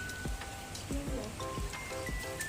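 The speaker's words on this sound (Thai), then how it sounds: "พายุเข้าทำให้ฝนตก" Rain falling during a storm, a steady patter of drops on surfaces with scattered louder splats, close and continuous throughout.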